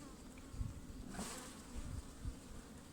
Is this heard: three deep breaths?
no